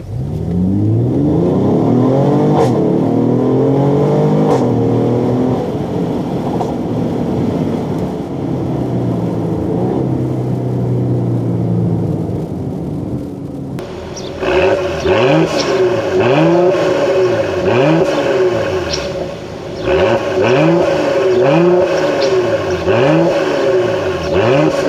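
A 2017 Mercedes-Benz GLE 450 AMG engine revs during a test drive, rising through gears in long sweeping pulls with a downshift midway, then repeated surging bursts, loud from inside the cabin.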